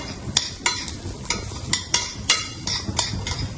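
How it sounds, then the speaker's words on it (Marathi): Ground dry fruits for panch mishri modak stirred in ghee in a pan, sharp rhythmic scrapes and taps of the spoon roughly every half second over a soft frying sizzle, close and fairly loud. "हे वाटलेले सगळे ड्रायफ्रूट्स त्याच्यात टाकले आणि त्याला आता हलवून घेणार"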